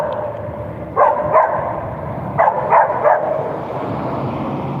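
A puppy barks in two short bursts, two sharp yaps followed by three more, fairly close over a steady background hum.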